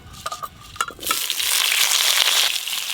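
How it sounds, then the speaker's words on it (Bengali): Washed, cut potatoes hit a hot pan with salt and turmeric, a brief clink and scrape giving way to a loud, steady frying hiss that fills the rest of the moment, with no talk. "লবণ, হলুদ গুঁড়ো, চাপা দিয়ে দিয়ে আলুগুলো ভালো করে ভেজে নেব।"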